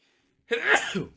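A single sharp sneeze, close and fairly loud, following a brief silence.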